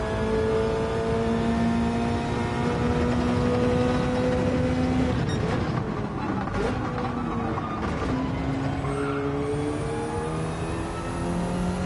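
A Subaru BRZ Gr3 race car engine in Gran Turismo drones loudly and steadily, its tone sliding through gear changes as it accelerates, with a brief rougher burst midway before settling into sustained revving.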